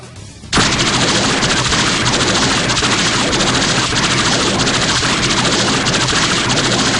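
A sudden, loud, continuous blast of rapid-fire proton cannon bursts, roaring without pause after a brief quiet start.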